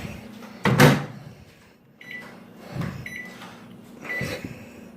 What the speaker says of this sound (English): Now I'm put this in the microwave.